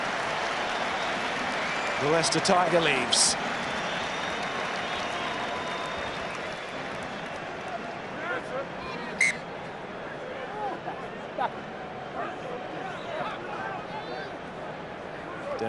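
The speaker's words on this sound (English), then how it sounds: "he's going to get some round of applause here" Stadium crowd at an England versus Australia rugby match applauds Ben Youngs leaving the field, a steady broad wash of distant clapping and cheering beneath a commentator talking.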